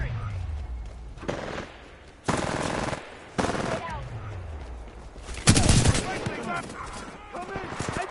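Loud bursts of automatic gunfire from Titanfall 2 come in repeated volleys over battlefield din, with voices shouting in between.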